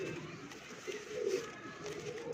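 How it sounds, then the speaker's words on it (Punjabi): An old-breed pigeon coos softly in a loft, a few low, rounded coos rising and falling over quiet background noise. "ਤੇ ਇਹ ਕਬੂਤਰ ਇਹਨਾਂ ਸਾਰਿਆਂ ਨਾਲੋਂ ਅੰਟੀਕ ਕਬੂਤਰ ਆ"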